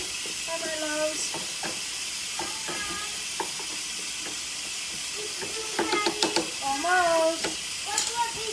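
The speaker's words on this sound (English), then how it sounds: "So my pressure cooker is ready" A pressure cooker steadily hissing as it vents steam in a home kitchen, a continuous bright rush under intermittent speech from people nearby.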